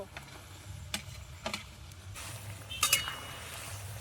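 Live koi fish dropped into spice paste of cashew, cumin and chili frying in a pan, with a soft sizzle, a few clinks of utensil on metal and a louder burst of crackling near the end.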